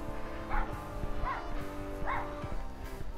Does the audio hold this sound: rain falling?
no